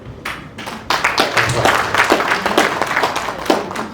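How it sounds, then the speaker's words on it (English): Clapping at a district cabinet meeting hall, a modest burst of hands with irregular rhythm, fairly near and moderately loud, with some voices mixed in. "I give a big clap that we will achieve it"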